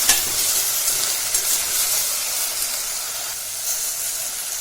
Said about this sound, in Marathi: बटाट्याची चांगली हालचाल करायची असे खालून वर वरून खालून चांगलं चांगले हलवायचे त्यांना